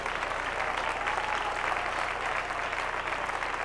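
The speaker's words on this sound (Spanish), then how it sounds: "Dele un aplauso al Señor" Congregation applauding during a Spanish-language church sermon, a sustained, fairly loud wash of clapping from many hands that holds steady throughout with no voice over it.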